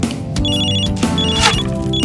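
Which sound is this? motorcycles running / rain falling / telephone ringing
telephone ringing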